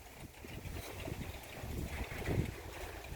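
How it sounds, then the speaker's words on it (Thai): Heavy rain pours over a rural Thai village with gusting wind blowing against it, a dense, steady roar of rainfall and wind buffeting the microphone throughout, swelling slightly near the end. "มาแล้วครับลงเม็ดอย่างใหญ่ครับ"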